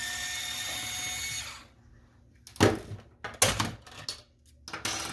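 Screws come out of a Nexus Pro foam blaster shell: a steady hiss fades, then come a few close, sharp clicks and scraping bursts of a screwdriver and loose parts, with no talk.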